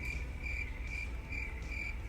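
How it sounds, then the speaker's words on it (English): Crickets chirp in steady repeated pulses, a bright insect trill recurring about every half second over a low background hum, with no talking. "I'm going to have to put crickets"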